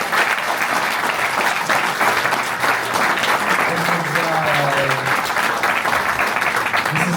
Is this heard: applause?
yes